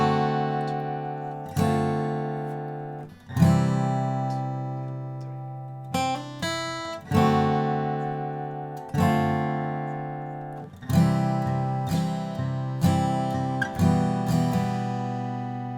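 Acoustic guitar strums the intro chords of When I Was Your Man, steady rhythmic strokes with chord changes every couple of seconds, close and unaccompanied.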